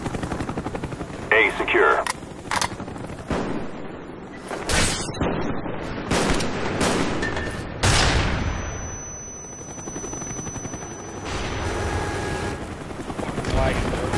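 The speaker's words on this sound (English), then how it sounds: "Yeah, they have a chopper." A helicopter in Call of Duty Black Ops on the WMD map in a Domination match drones throughout a busy firefight, with bursts of gunfire and explosions, game announcer callouts and player voices over it.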